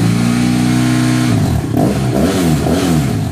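A 2013 BMW 800GS motorcycle engine fitted with a Leo Vince exhaust, heard up close as a loud, steady idle that rises into revving, with no voices.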